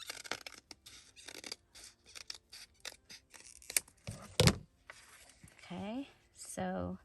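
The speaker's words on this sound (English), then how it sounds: "And I'm going to cut my note paper." Scissors cutting note paper up close, a run of short snips and paper rustles with one louder crunch partway through, and a person speaking briefly toward the end.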